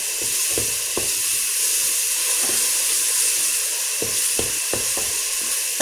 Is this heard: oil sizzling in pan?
yes